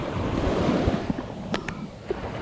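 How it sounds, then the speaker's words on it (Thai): Strong ocean waves crash and wash steadily onto a shore during coastal squid fishing, a loud continuous roar of surf with wind buffeting the microphone and a few faint clicks. "ถือว่าคลื่นซัด แรงอยู่ครับ"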